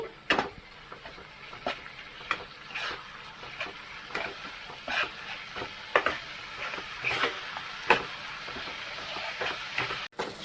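Spiced masala and mushrooms stirred in a pan over a medium flame, with a spoon scraping and clicking in repeated short strokes over a soft, steady background sizzle.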